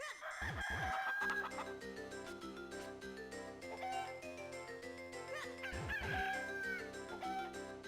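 Chickens in The Legend of Zelda: The Minish Cap, a repeated cartoonish clucking and crowing game sound effect over looping chiptune background music, loud and in the foreground, with no talking.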